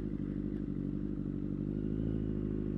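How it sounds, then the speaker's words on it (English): A motorcycle rumbles steadily on a ride, a low continuous engine drone with faint clatter over it, heard from the rider's position with no talk. "I'm on a motorcycle."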